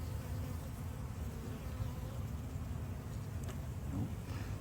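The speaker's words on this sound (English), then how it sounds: "Look at all the young bees just emerged." Honeybees drone in a low, continuous buzz during a hive inspection, a dense close hum that holds steady throughout with no voices.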